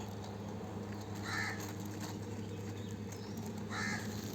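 A crow caws twice, a couple of seconds apart, moderately near, over a steady low hum.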